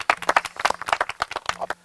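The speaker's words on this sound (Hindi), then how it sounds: "जोरदार तालियां एक बार क्या फिर।" Audience clapping for the season winner at the finale of a reality show, sharp uneven claps from a small crowd that stop abruptly near the end.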